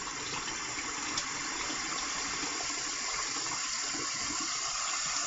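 Water draining out of a shaving scuttle, a steady loud gushing, rushing stream that continues unbroken throughout at close range, with no talking.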